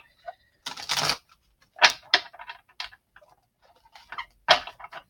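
Quiet room with a few separate bursts of crisp papery rustling and flicking as tarot cards are shuffled, riffled and tapped, with pauses in between.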